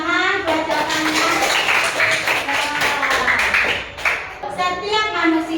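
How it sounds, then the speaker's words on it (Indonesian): A classroom of pupils applauds a student's answer, brisk clapping from many hands continuing under children's voices and chatter throughout. "tepuk tangan buat jawabannya"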